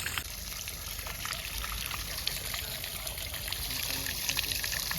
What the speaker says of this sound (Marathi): फायनली आला पाणी